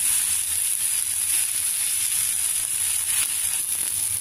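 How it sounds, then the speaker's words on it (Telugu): Young tamarind leaves sizzle steadily in hot tempering oil in a pan, a continuous close frying hiss with no voices. "ఈ చింతచిగురిని మనం ఇలా పోపులో కొద్దిగా మగ్గించుకోవాలి."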